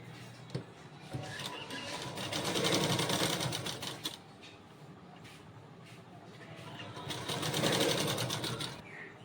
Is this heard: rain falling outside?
no